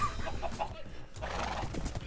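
A Minecraft horse whinnies in the game with a rising, wavering neigh, accompanied by soft hoof clip-clops and faint game ambience, fairly quiet and without talk.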